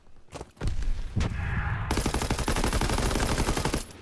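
Rapid automatic weapon fire in the World War II shooter Call of Duty WW2, loud sustained bursts after a few sharp single shots, with no talk.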